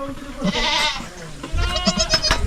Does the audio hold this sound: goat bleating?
yes